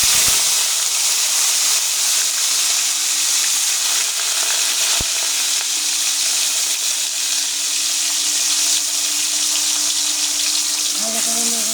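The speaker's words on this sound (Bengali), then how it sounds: "তেল গরম হয়ে গেছে, এখন আমি পেঁয়াজ রসুন একসাথে দিয়ে দেবো।" Onion and garlic fry in hot oil for a kalbaus fish curry, a loud, close, continuous sizzle that holds steady the whole time, with a faint voice near the end.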